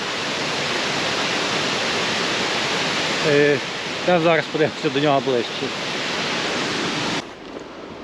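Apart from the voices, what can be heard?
artificial waterfall at a river dam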